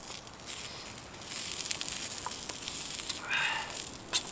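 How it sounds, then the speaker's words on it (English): Asparagus fries in coconut oil on a metal camp plate at a wild campsite, giving a steady, soft hiss and sizzle with scattered small pops. "just frying up some asparagus."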